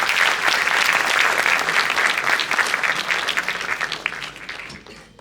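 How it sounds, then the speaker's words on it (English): Dense, loud applause from a large audience at a university white coat ceremony for medical students, sustained and then gradually tapering off toward the end. "Give them a big applause."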